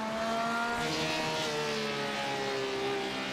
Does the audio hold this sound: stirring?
no